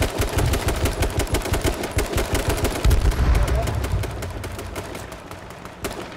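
Rapid bursts of automatic gunfire in the H1Z1 battle royale video game, loud and dense, with a brief voice under the shots and a final isolated crack near the end.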